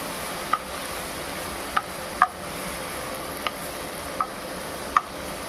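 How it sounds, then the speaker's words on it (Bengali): Sattu mixture being stirred in a pan after salt is added, a soft continuous sizzle broken by about six sharp, evenly spaced spatula taps against the pan. "আবার একটু নেড়ে চেড়ে নেব কিছুক্ষণ ধরে।"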